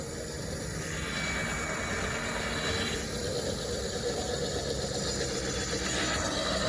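A Jeep Gladiator truck engine idling in neutral with the brake on during a winch pull, a quiet, steady low rumble with faint mechanical noise and no talk.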